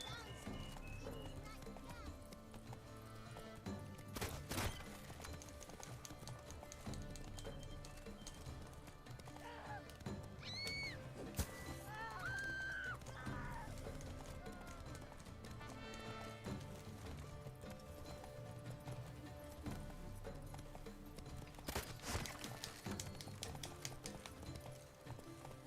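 Hooves of Roach, the horse in The Witcher 3, clip-clop at a gallop with occasional neighs, amid game music and effects, while a player talks over the action.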